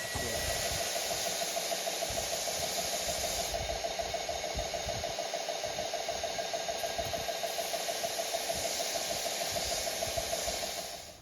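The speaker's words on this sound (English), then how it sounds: "I am then going to go ahead and rip them to their taper on the table saw." Table saw ripping wooden bow laminations to a taper, a steady loud whining drone of the blade and motor with rough cutting texture that carries on without a break for about eleven seconds.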